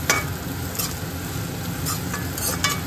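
Onion, ginger and garlic masala paste with tomato and green chilli sizzles in a pan while being stirred, with steady frying hiss and a few clinks of the spoon against the pot.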